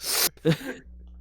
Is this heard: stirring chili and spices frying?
no